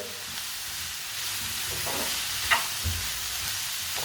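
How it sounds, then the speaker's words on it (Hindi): A spoon stirs chicken cooking over raised heat in a pan for a crispy chicken dish, giving a steady sizzling hiss with a few soft scrapes and one sharper knock near the middle, close by and with no talking. "अब इसे 3-4 मिनट के लिए पका लेंगे, ऐसे ही चम्मच चलाते हुए।"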